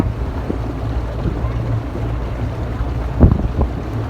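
Steady wind buffets the microphone over a low rumble of a motorboat moving across the sea in Norway, with a brief knock near the end.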